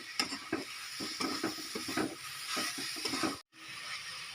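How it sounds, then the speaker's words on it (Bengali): Coconut filling cooking with sugarcane jaggery in a pan, with soft rhythmic scraping strokes of stirring over a low sizzle, a brief silence near the end. "গুড় দেওয়ার পর নাড়তে নাড়তেই কিন্তু গুড়টা গলে যাবে।"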